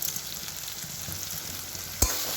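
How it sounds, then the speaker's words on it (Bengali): Ridge gourd peel spiced with chili powder and sugar sizzles steadily in a pan while a spatula stirs it, with a continuous crackling fry and one sharp scrape near the end. "খুন্তি দিয়ে নাড়াতে থাকবো। যতক্ষণ না এটা শুকনো শুকনো হচ্ছে ততক্ষণ নাড়াতে থাকবো।"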